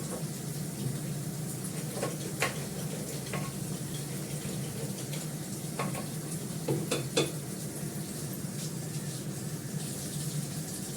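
Garlic, dried red chilli and five-spice tempering sizzling in oil for masoor dal, a soft steady sizzle at moderate distance with scattered clinks and scrapes of a spoon against the pan.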